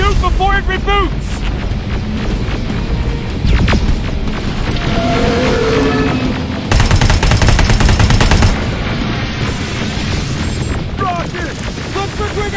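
Gunfire and explosions crash from a Terminator Resistance battle, a dense, loud, continuous barrage with bursts of automatic fire, mixed with game voices shouting.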